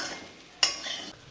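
Potato and green banana frying in a pan give a soft sizzle with one sharp stir or spatula scrape in the middle, quiet and brief.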